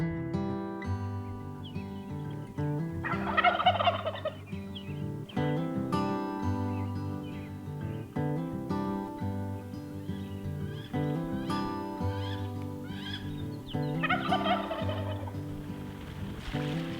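Merriam's wild turkeys at roost gobble in repeated rattling bursts, three clear volleys at a moderate distance over steady natural background, with no talking.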